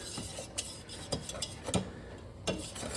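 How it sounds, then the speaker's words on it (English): A spoon stirs macaroni and cheese sauce in a pot, with soft scraping swirls and a few sharper clinks of utensil against metal at irregular moments, close and fairly quiet. "Stir it up."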